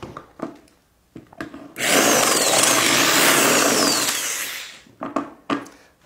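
A drill bores a hole out larger to pass a 3/8 inch bolt for a ball head on a DIY camera dolly, whining steadily and close for about three seconds between brief handling knocks.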